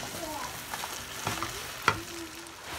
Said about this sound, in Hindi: अब हम इसमें डाल देंगे मैरिनेट किया हुआ चिकन, और इसे कर लेंगे मिक्स।